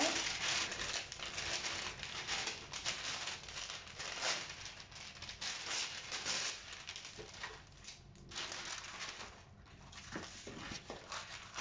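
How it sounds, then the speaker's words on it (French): Baking paper crinkles and rustles as it is handled and pressed down into an air fryer, with soft scraping and crackling bursts continuing throughout, no talking. "Je vais mettre un petit peu de papier cuisson."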